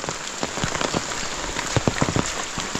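Heavy monsoon rain falls steadily in the Konkan region, a continuous dense patter of drops striking surfaces with scattered louder splats, moderately quiet and with no voices.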